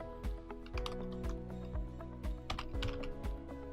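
Someone types a command on a computer keyboard, irregular close key clicks and a few heavier thumps over a steady electronic hum, with no speech.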